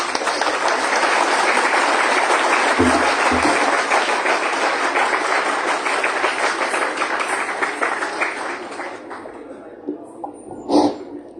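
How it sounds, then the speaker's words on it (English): An audience welcomes a Bharatnatyam dancer at a cultural performance with loud, dense applause that holds steady, then thins out and fades into a quieter room with a few scattered thumps and sounds at the end. "Let's have a thunderous round of applause."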